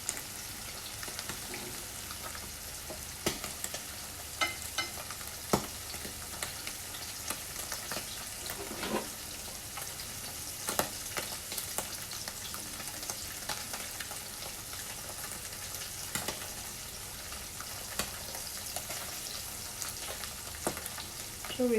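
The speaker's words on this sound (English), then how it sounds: "So we still have a bit more to pan fry" Tofu pan frying for Japanese tofu with minced pork sauce, a steady hissing sizzle with scattered crackles and pops running throughout, close and continuous with no talking.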